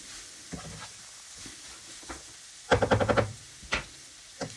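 Tongs stirring and tossing pancit canton noodles with seasoning in a pan, faint scrapes and a short rattling burst of rapid metallic clicks, then a few isolated knocks.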